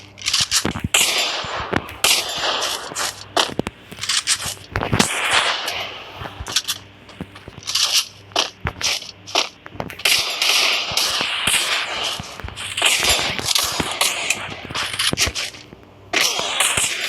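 Gunfire in a shooting video game lands headshots, with loud, close, sharp shots fired in rapid bursts and single cracks, scattered irregularly with brief pauses between volleys.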